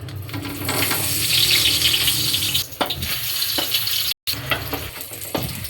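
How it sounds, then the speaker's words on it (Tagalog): Pan-frying for a Filipino lomi dish, with a steady sizzle of food in hot oil running throughout, occasional utensil clinks and stirring knocks, close and fairly loud, with no talking. "Slight prito muna natin siya."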